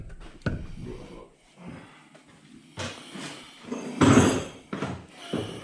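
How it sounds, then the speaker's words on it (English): Hammer blows knocking a part through on a broken-down John Deere combine during harvest, a few sharp metallic strikes close by, the loudest cluster near the end, with scraping and clatter between them. "Take a hammer and whack that through now."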